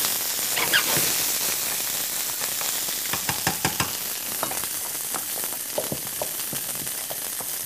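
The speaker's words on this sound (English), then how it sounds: "And then just take our garlic, put it right in our pan" Finely chopped garlic hits a hot pan and sizzles steadily, with bright crackles and small pops flaring over a continuous frying hiss, close and without talk.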